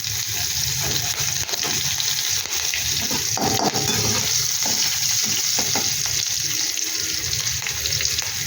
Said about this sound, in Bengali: এবার দিয়ে দিলাম জল।